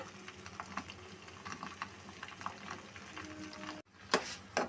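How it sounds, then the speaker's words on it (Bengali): Homemade herbal hair oil bubbles on a gas stove, a soft continuous simmer with faint ticks and pops, then a brief pause and a couple of louder stirring scrapes. "ফুটতে ফুটতে কি সুন্দর দেখতে হয়েছে, ওপরে ফেনা ফেনা মতন"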